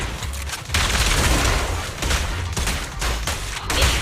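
Gunfire from the Zenless Zone Zero video game comes as a dense, loud fusillade of rapid booming shots in quick bursts across a few seconds, with no talk over it.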